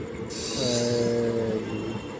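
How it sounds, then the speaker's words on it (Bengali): A Kalyani Simanta local train pulling into a station, with a loud rumbling roll and a sustained metallic squeal of brakes and wheels rising then fading over a couple of seconds. "এই এসে গেছে আমার ট্রেন"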